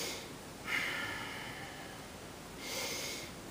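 Two long, soft exhalations through the nose during a relaxation breathing exercise, each a gentle breathy rush, close and quiet, separated by a pause.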